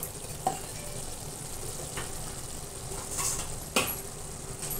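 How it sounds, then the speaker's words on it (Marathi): Masala spices dry-roasting in a pan for stuffed sponge gourd give a steady, faint sizzle with occasional soft stirring scrapes and a couple of sharper clicks near the end. "हे बघा आता आपला हा मसाला भाजत आलेला आहे"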